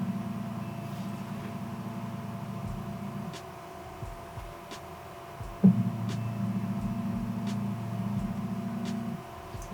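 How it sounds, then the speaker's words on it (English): ELEGOO Jupiter 6K resin LCD printer raising and lowering its build plate: a steady low stepper-motor hum runs for about three seconds, pauses with a faint click, then resumes with a sharp knock and continues steadily, quiet and close-miked. "This is the sound of the printer itself."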